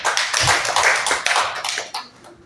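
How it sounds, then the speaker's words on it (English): An audience claps at a city marathon organiser's speech, a dense burst of hand claps that swells and then thins out over a couple of seconds. "Please give him a thunderous clap."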